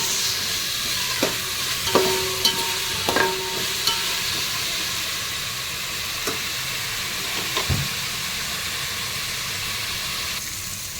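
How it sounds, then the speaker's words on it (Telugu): Coriander, mint and other ingredients fry in a pan with a steady, loud sizzle. A few utensil clinks and scrapes cut through as they are stirred. "వీటన్నింటిని ఒక 2 నిమిషాలు ఫ్రై అవ్వనిద్దాం."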